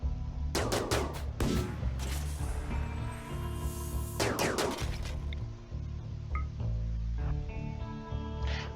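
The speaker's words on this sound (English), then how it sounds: "You know what, just shoot everything." Gunfire from the video game Rimworld as animals are shot, bursts of repeated sharp shots in quick clusters followed by scattered lighter clinks and impacts, loud, with no speech.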